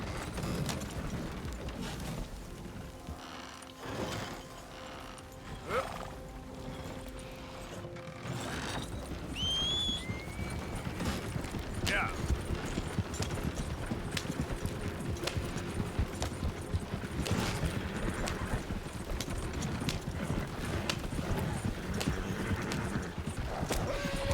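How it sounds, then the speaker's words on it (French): Horses pulling a wagon in Red Dead Redemption 2 clip-clop steadily at a run, with an occasional whinny and creaking wagon mechanisms over ambient game sound. "ce qui est pratique avec les chariots, c'est que les chevaux ne s'épuisent pas, donc on peut courir"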